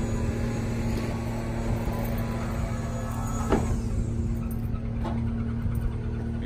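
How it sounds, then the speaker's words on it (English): A hydraulic dump trailer is lowered by a landscaping crew, a steady mechanical hum and engine drone with a faint whine, broken by a couple of brief clanks and knocks partway through. "What we're doing now is we are bringing the trailer down."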